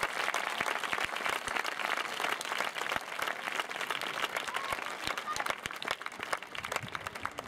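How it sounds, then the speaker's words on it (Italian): Audience applauding at the closing evening of a Grest summer program, a dense, steady wash of clapping that fills the whole stretch at close range, with a few sharper individual claps standing out. "Quindi facciamo un grande applauso a tutte queste persone."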